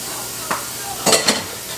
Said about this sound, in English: We are going to cook the meat in the pan.